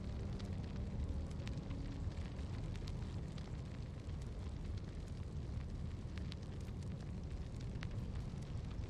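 Explosion and fire in the video game Necromunda: Hired Gun, heard as a steady, dense roar of burning and rumbling blast noise that fills the whole clip at an even loudness, with no voices.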